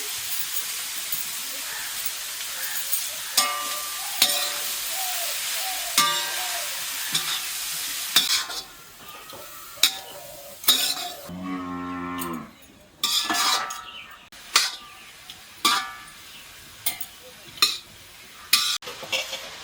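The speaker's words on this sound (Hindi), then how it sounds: "घी गरम हो चुका है, और अब हम गाजर डाल रहे हैं। घी में भुनेंगे" Grated carrots sizzle and fry in hot ghee for gajar halwa on a traditional wood-fired clay stove, with steady crackling and occasional stirring scrapes. A cow lows repeatedly in the background.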